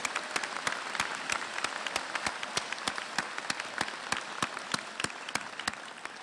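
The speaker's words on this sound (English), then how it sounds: "let's give a big round of applause to our faculty, our staff, and our administrators" An audience at a University at Albany convocation applauds steadily, a dense wash of many hands clapping with sharp regular strikes standing out near the microphone, sustained without any talk.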